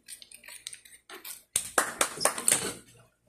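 A metal utensil stirs food in a pan during a family's first cooking session, giving several sharp clinks and scrapes in quick succession after a few softer taps, near and fairly loud.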